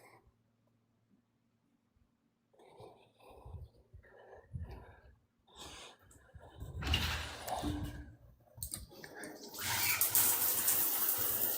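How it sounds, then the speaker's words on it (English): A home shower is switched on and water starts running, a loud broadband hiss that builds in bursts and then holds steady near the microphone, with knocks and bumps beforehand. "Turn my shower on. I'm about to take a shower."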